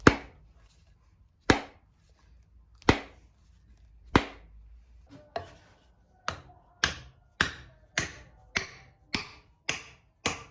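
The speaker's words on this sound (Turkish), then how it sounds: "Sapı kovana oturttuktan sonra bir plastik tokmak vasıtasıyla sap arkadan vuruyorum." A series of sharp knocks from a plastic mallet striking the back of an axe handle seated in its head, first widely spaced and then faster in a steady rhythm, close and crisp with quiet gaps.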